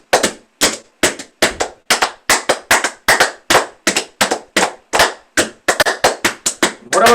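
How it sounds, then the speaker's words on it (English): Sharp, crisp hand claps from a dolak tali yoga exercise ring out alone in a brisk, uneven rhythm, roughly two dozen separate claps, loud and close with silence between each. "you can just clap them when line ends"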